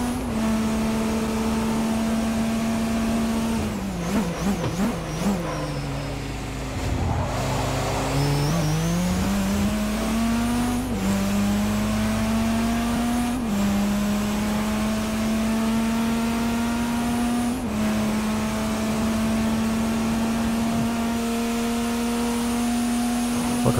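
An LMP1 prototype race car in Forza Motorsport 4, its loud engine holding a steady high whine, dipping briefly as it slows around a corner, then climbing and shifting through gears again, with no talking.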